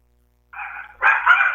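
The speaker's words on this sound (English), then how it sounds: "My dog's going crazy here, Mike." A dog barks loudly and close by in a short burst of two or three agitated barks, heard alone without speech during a phone call into a talk radio show.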